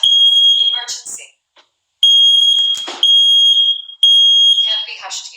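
A Nest smoke alarm in a master bedroom sounds a loud, piercing high-pitched tone in repeated bursts, alternating with its own spoken emergency voice announcements.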